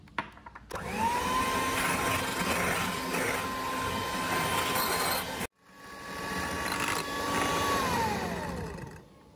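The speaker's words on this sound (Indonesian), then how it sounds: "Oke, kita masukin susu cair. Kita mixer lagi sebentar." An electric mixer whirs steadily and loudly as liquid milk is beaten into cake batter for a banana cream cake, stopping briefly midway and then restarting before winding down.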